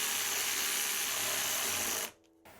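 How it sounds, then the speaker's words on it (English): A cordless jigsaw cuts into a custom guitar body with a steady, dense buzzing whine held for about two seconds, then stops abruptly, leaving a faint hum behind. "I'm very gently teasing it or kissing it with another wonderful cordless tool, a"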